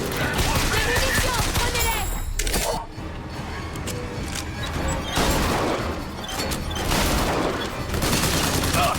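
Rifle gunfire in the video game BioShock Infinite, dense rapid bursts of shots with crashes and impacts, loud and almost continuous with a brief lull, amid game voices and effects.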